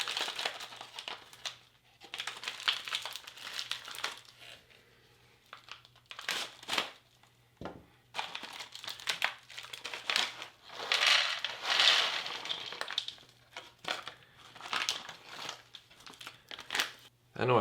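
A foil packet of toasted corn kernels from a US MRE Meal Cold Weather ration crinkles and crumples in repeated bursts close by, with short pauses between handling sounds.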